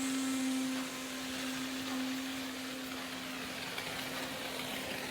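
Compressed air hisses steadily through an RV's plumbing low point drain while the camper is winterized, a continuous, fairly loud rushing noise with a faint steady hum beneath and no talking.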